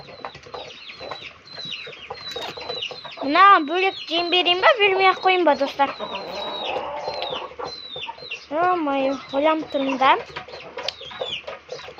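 Farm chickens with a rooster clucking and squawking while pecking at outdoor feed, several birds close by in a busy, irregular chorus, with someone talking over them throughout.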